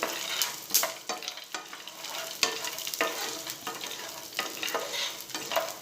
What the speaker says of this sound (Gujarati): મેં અડધી વાટકી સિંગદાણા લીધા છે એ પણ આપણે એડ કરી દઈશું એટલે સિંગદાણા પણ શેકાઈ જાય